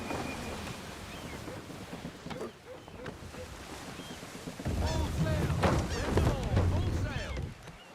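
Wind gusts and waves wash around a sailing ship in Assassin's Creed 3, a continuous broad rush with a louder surge toward the end and faint creaks and calls mixed in.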